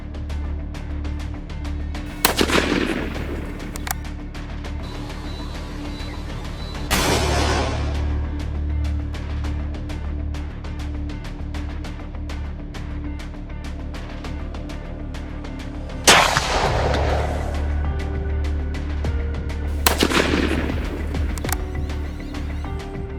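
Rifle shots fired by South African farmers at crop-raiding baboons, four sharp loud cracks spaced several seconds apart, each trailing off with an outdoor echo over a steady low background rumble.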